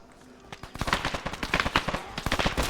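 Rapid gunfire rattles in Arma 3 during a military-simulation Halloween mission. Quick automatic bursts of sharp shots grow denser and louder after a brief quiet start.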